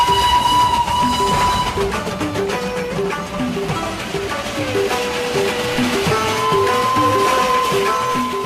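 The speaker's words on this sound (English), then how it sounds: "everybody's come here to enjoy the romance and the excitement of a real steam train" Darjeeling Himalayan Railway steam toy train running on the Indian hill line, a steady loud rolling rumble with clanking wheel rhythm and sustained whistle-like tones throughout, no talk.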